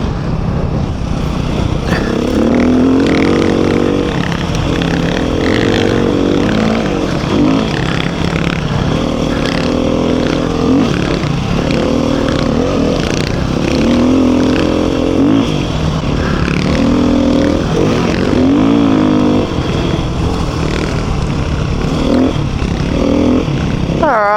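A Beta 390 RR dirt bike engine on a trail ride over a jump-filled track, running loud and close throughout with steady rising and falling revs and no talking.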